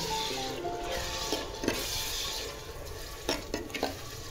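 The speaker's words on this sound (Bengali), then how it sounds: "দিয়ে এটা আমি একটু কষিয়ে নেব" Spices and tomato paste cook in a pan: a soft, continuous sizzle with a spoon scraping and stirring through it, a few sharper strokes near the end, close and moderately quiet.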